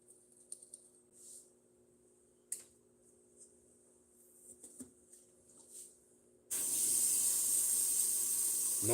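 An airbrush blasts rinse liquid into a milk jug while cleaning between tank paint jobs, a sudden steady loud hiss that starts after quiet room ticks and small clicks, close and continuous.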